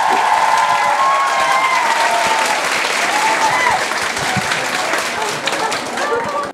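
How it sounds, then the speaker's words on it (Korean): An audience at an offline interview lecture claps in a loud, dense, continuous round of applause, with voices calling out beneath it before the clapping tapers off at the end. "자, 다시 한번 큰 박수 부탁드립니다."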